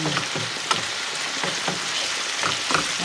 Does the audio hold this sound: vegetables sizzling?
yes